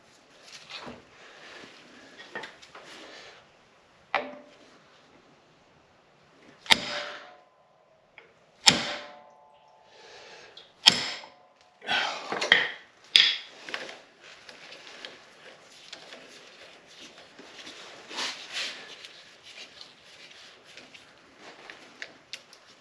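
Several sharp metallic strikes on a tool fitted to the 17mm rotor nut of a Honda CB750 motorcycle, loosening it; five or six loud separate hits spread over quiet workshop background.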